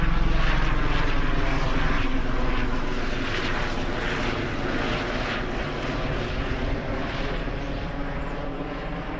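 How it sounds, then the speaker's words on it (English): A helicopter passes over an Alpine hiking trail in the Swiss Alps near Guggisberg, its steady rotor and engine drone loud and continuous throughout, fading slightly toward the end. "I'm looking back at the helicopter."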